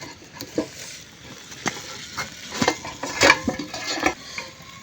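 A cooking pot scrubbed clean with rice bran, a run of rough scraping strokes and light clanks against the pot, close and fairly loud, no talking.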